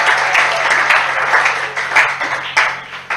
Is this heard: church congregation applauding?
yes